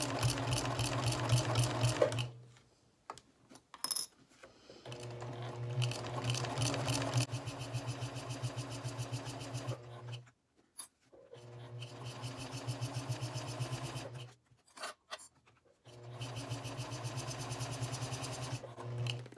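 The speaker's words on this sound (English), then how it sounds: "carefully stitch as close to the edge as I can" Home sewing machine stitching the edge of a vinyl project bag in several bursts, a rapid mechanical clatter and hum that starts and stops with short quiet pauses between runs, close and moderately quiet.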